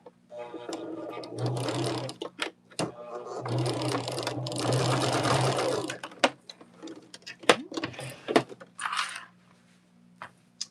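Home sewing machine stitching quilt block seams for a ribbon quilt, running in steady bursts with brief pauses and small clicks between runs, close and fairly loud.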